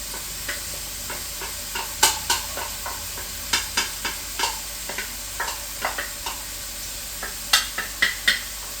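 Celery and carrots stirred in a hot pan for a Thanksgiving cornbread stuffing casserole, giving a steady low sizzle under a run of sharp scraping, tapping stir strokes in an uneven rhythm, close and fairly quiet.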